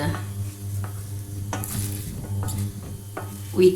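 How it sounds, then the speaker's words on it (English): A wooden spoon presses tapioca starch flatbread dough in a hot pan, giving a steady sizzle with scraping and tapping strokes close up and no talking. "wooden spoon or whatever you use to flatten this"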